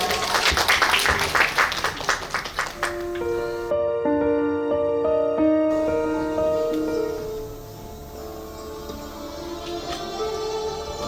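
An audience applauds at a summer poetry recital: dense clapping for about three seconds, then it thins out as sustained instrumental music takes over and carries on alone.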